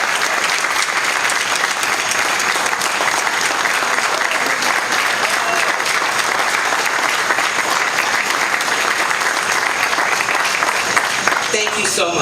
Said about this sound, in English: giving Dick another round of applause and the entire BWL team for a job well done